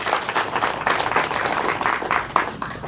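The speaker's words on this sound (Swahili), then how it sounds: "Naomba wananchi tushirikiane kumpigia makofi Mheshimiwa DC." Villagers applaud the Ngara District Commissioner at a village ceremony closing a house construction and renovation drive: a dense, steady burst of many hands clapping together for about three seconds, close and fairly loud, with no talking over it.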